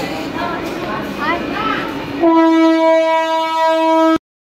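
A train pulls into Chinsurah station. Rumbling noise with voices gives way to a loud, steady, sustained horn blast nearby, which stops abruptly.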